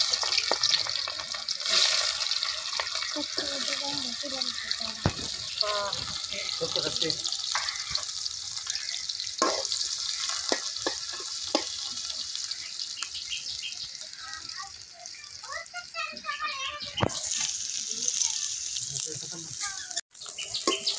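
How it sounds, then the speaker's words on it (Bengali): Onions fry for a mixed five-fish curry in a village outdoor kitchen, a steady moderate sizzle running throughout with occasional scraping stirs and clinks of a spoon against the pan. "এই পেঁয়াজগুলো হালকা করে বাদামি করে ভেজে নেব।"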